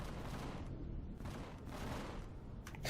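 A ship in the space game Empyrion fires its weapons in a faint, continuous rapid barrage of shots that blur into a dense, rumbling roar.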